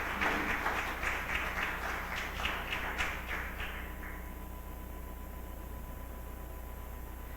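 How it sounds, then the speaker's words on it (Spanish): Audience applause at a church service, a dense wash of clapping for about four seconds that fades into a steady, faint room hiss. "Denle un fuerte aplauso a Dios."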